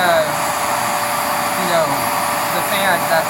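A Hoover Dual Power Pro carpet cleaner runs with a steady, loud motor whine and broad airy rush, holding constant close up for the whole stretch with slight fluctuations as it moves over carpet.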